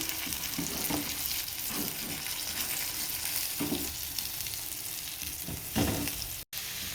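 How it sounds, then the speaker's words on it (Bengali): Bitter gourd fries in a pan with onion, green chili and salt, producing a steady close sizzle broken by soft stirring scrapes and a short dropout near the end. "করলা ভাজিটা বসিয়ে দিলাম"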